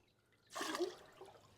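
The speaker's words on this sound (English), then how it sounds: "so now I'm going to add the water" Cold water poured onto Colby cheese curds in a pot, a soft splashing rush that starts after a brief quiet pause and fades into a gentle trickle, heard alone at close range.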